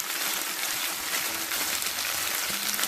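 Tomato paste sizzles and fries in a pan, stirred through a steady broadband crackle with faint scraping, close and continuous without speech.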